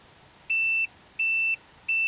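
A voltmeter emits three evenly spaced electronic beeps, each clear, steady and pure-toned, lasting about a third of a second, with quiet gaps between them.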